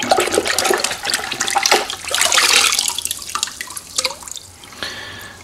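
A part from a Rochester Quadrajet carburetor rinsed under running water, loud splashing and gushing that fades to drips and trickles, no talking.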